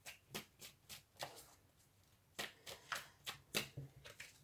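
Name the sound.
tarot cards being handled and drawn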